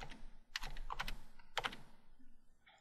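Typing on a computer keyboard, with close, quiet clusters of quick key clicks and short pauses between the bursts.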